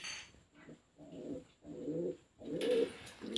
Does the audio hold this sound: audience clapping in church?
no